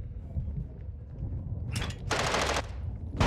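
Bursts of automatic gunfire in the video game Call of Duty: Modern Warfare 2 during a prison break firefight, loud rattling volleys that start near the middle and return at the end over a low rumbling background.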